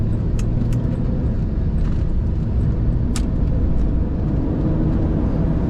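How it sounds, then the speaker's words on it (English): A 1995 Buick Roadmaster engine drones loudly and continuously while accelerating, heavy low rumble, steady road and engine noise throughout, a few faint clicks above it. "Good power in this car. Acceleration is very good."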